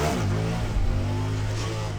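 A Honda Grom motorcycle in a parking lot during a failed wheelie attempt, its small engine holding a steady, close, buzzing drone with a slight rise in the middle, with no talking.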